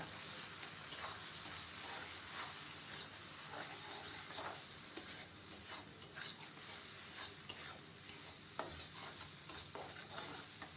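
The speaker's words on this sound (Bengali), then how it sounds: "আর হলুদের গুঁড়া দিয়ে লিটার একটু ভাজবো" Turmeric powder and salt fry in an oil-filled pan for a prawn and bottle-gourd curry, giving a steady, quiet sizzle with faint scraping stirs throughout and no voices.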